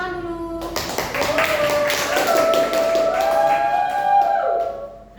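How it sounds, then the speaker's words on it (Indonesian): Applause from an audience at a school class debate, a burst of quick, crowded clapping that builds and carries for several seconds, mixed with voices and a tonal sound running underneath before fading out. "Kasih tepuk tangan dulu"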